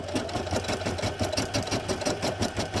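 A Brother PE800 embroidery machine stitches a star design on a Christmas reusable gift bag, a rapid, steady mechanical whir with regular needle beats, close and continuous.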